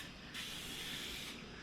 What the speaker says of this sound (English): I'm gonna take my non-cooking cooking spray from Costco, and I'm gonna go ahead and evenly coat my waffle maker